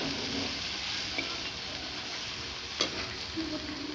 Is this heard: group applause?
no